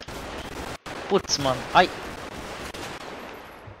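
Gunfire in a GTA V FiveM police roleplay game, several sharp shots in a quick cluster over background noise, with a man's brief exclamations.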